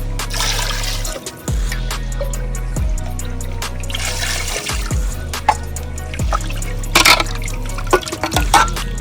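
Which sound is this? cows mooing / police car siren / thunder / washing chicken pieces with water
washing chicken pieces with water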